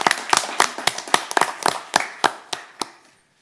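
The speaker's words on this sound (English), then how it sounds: "May I suggest a round of applause for all those people that worked so hard?" A small round of applause at a school district governing board meeting, with about a dozen crisp, distinct claps from a few people, close and sparse, tapering off to silence.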